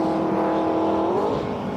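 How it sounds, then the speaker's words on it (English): Race car circuit racing at Brands Hatch in an MG Car Club event, one steady engine drone rising slightly in pitch as it holds speed, heard continuously from a distance with no talk. "A car 57 is thundering along down there as well."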